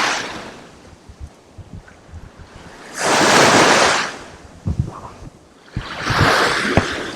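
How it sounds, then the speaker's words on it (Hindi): Ocean waves at Hulhumale beach in the Maldives, somewhat larger than usual on a windy day, with two loud breaking surges rising and fading over a low steady wash of surf and wind. "आज लहरें कंपैरेटिवली थोड़ी बड़ी बड़ी आ रही हैं"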